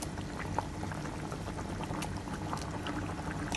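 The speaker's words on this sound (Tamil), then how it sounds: "இப்போ நம்ம தேங்காய் சாந்து ஆட் பண்ணலாம்" Coconut paste goes into a simmering village-style rabbit curry: a steady, close bubbling and sizzling wash of liquid cooking that holds level throughout, with faint small pops and no talk.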